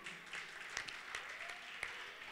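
An audience applauds at a Christmas carol choir competition semi-final, a faint, steady wash of clapping with a few sharper claps standing out.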